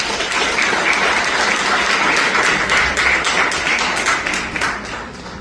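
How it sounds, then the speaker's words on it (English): At a school award ceremony for students with 4.00 GPAs, the audience welcomes a guest speaker with loud, sustained applause, a dense continuous patter of many hands that tapers slightly at the close. "Please welcome him with a round of applause"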